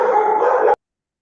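A dog gives one sustained, whining bark or yelp during a court hearing. It is loud and close and lasts under a second, then cuts off abruptly into silence.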